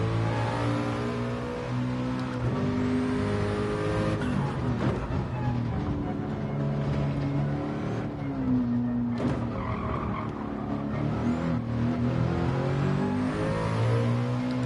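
A race car engine in Gran Turismo 7 revs and drones continuously with shifting pitch and occasional tire squeal, loud and steady with no talking.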